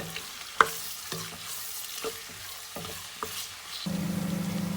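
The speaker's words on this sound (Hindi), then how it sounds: "अब हम लोग इसके अंदर प्याज ऐड कर देंगे और इनको भी थोड़ा सा फ्राई करेंगे।" Chopped onions frying with garlic in a pan for aloo keema, a low sizzle punctuated by several spoon knocks and scrapes, ending in a steady hum, with no one speaking.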